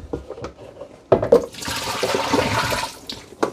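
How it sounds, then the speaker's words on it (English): Dirty water from the tank of a Roborock Qrevo Pro robot vacuum dock is poured out, sloshing and splashing into a drain in a close rush, with a few knocks before and after. "Okay, let's empty the dirty water tank."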